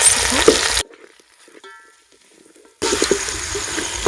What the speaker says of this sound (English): I'll fry my meat for a few minutes.